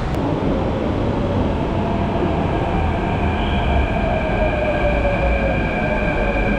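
A Mumbai metro train at Jagruti Nagar station at night runs steadily with a loud rumble and rising electric whine from the motors, heard close throughout.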